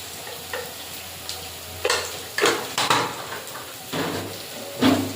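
Cumin and coriander powder frying in a pan for a potato and chicken curry, with a low steady sizzle broken by several scraping stirs and light utensil knocks, close by and with no talking.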